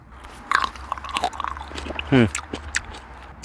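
A crunchy, bronze-tinged table grape is bitten and chewed close to the mouth, producing a few crisp crunching bites with a brief vocal sound partway through.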